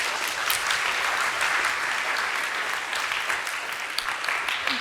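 Audience applause for a scientist being introduced on a German science talk show stage, a dense steady wash of many hands clapping at full volume throughout, with no voices over it.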